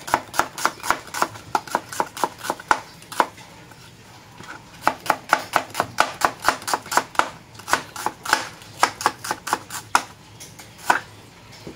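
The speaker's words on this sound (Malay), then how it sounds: "Dan saya juga potongkan bawang ni" Onions being chopped with a knife on a board, rapid sharp taps in uneven bursts of quick strokes separated by short pauses, close and clear with no talk.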